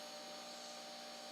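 A faint, steady vacuum cleaner drones upstairs, a constant muffled whir with no other activity.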